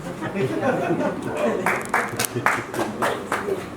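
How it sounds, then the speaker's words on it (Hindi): A sparse scattering of a few handclaps from an awards-ceremony audience, isolated claps rising over a murmuring crowd and background noise rather than a full round of applause. "बहुत शुक्रिया जिन्होंने 2-3 तालियां बजाई"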